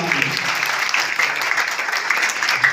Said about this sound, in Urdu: زوردار تالیاں بجا دیں